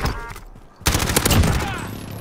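Video game gunfire in Call of Duty: Modern Warfare: a quiet lull then a sudden loud burst of rapid shots that rings on and fades, with a faint voice underneath.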